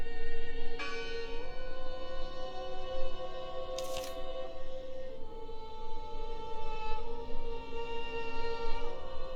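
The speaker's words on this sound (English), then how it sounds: "Listen! The bell! They're still in there!" A church bell rings in the horror video game Draugen, its sustained tones hanging over a steady ambient drone with no talk.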